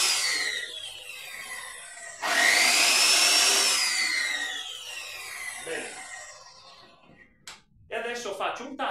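A Scheppach PL 55 plunge circular saw switches on with a sharp whine, runs for a couple of seconds, then winds down with a falling pitch, followed by faint handling noises.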